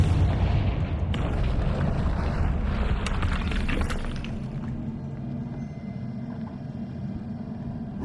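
A Confringo spell blasting through a barrier in the video game Hogwarts Legacy: a loud rumbling explosion with crumbling debris that tails off into a low sustained rumble, with no voices.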